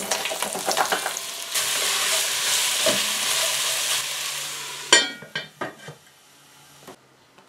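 Onions are tipped into hot oil in a pan and sizzle loudly up close, with stirring scrapes. The frying drops away toward the end, leaving a few utensil clinks and knocks.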